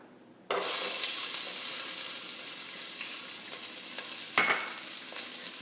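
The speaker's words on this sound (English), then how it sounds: "Now let those onions saute for probably 2 to 3 minutes until they start looking brown." Chopped onions hit hot olive oil in a stew pot and burst into a loud, bright sizzle that carries on steadily, with a stirring scrape partway through.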